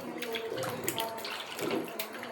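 Elephant foot yam being rinsed of soil under running water, a steady splashing and trickling stream with small bumps of handling, close and continuous, no talking.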